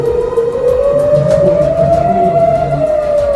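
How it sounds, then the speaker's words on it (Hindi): An air raid siren sounds loudly over the city of Rishon LeZion during a rocket attack in the Israel–Hamas war, a single sustained wailing tone that slowly rises and falls in pitch. "इस दौरान पूरा रिशॉन लिजियान शहर सायरन की आवाज"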